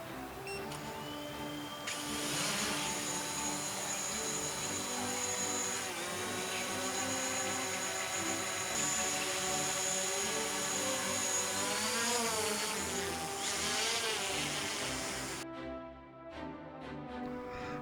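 Steady high-pitched whine of a drone's rotors as it takes off and flies, outdoors near budding prune and cherry trees, holding nearly constant with slight pitch shifts before cutting off abruptly near the end.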